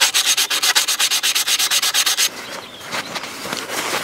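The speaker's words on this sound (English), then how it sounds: "we're going to clean off this ring where there's caked on rust and junk" Rapid rhythmic scrubbing of caked rust and grime off the ring of a car's fuel tank, about a dozen quick strokes close up, then a softer, uneven rubbing without talk.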